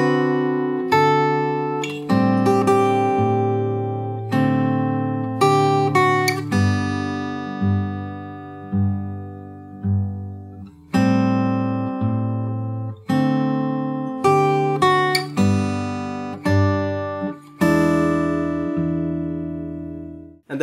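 Fingerstyle acoustic guitar plays the ending section of a song, a steady stream of plucked notes and ringing chords, close and clear with no voices, pausing briefly before phrases resume.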